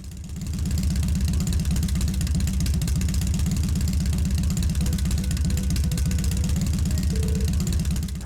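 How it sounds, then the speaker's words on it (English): A motorbike engine runs in the PS3 game The Legend of Heroes: Trails of Cold Steel, a steady, loud mid-pitched drone with a fast pulsing rumble that fades in and holds evenly throughout, with no talking. "The sheer speed, the engine's vibration, and the feeling of the wind as you ride along."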